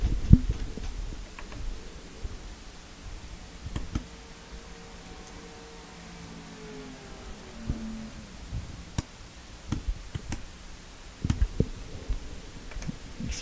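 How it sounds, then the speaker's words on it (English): Sharp, irregular clicks pop over a low hum and faint background noise, scattered through the recording with a few louder bursts toward the end, during a racing broadcast of Daytona 500 qualifying. "Excuse that clicking if you heard it."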